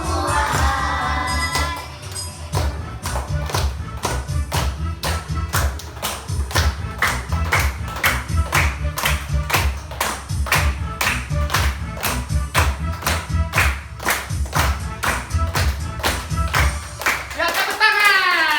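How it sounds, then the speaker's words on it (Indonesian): Children clap their hands after a classroom song about fruit, a long run of sharp, fairly even claps filling most of the stretch, with brief singing at the start and a voice near the end. "Ya, tepuk tangan."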